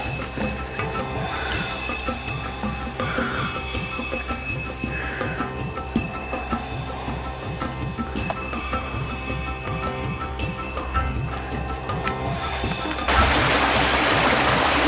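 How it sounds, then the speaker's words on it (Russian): A stone-lined stream flows with a steady, close rushing wash that holds evenly throughout, with faint regular clicks on top, then swells into a louder, brighter hiss near the end; no one speaks. "Ну вот, ручей выложен камнем."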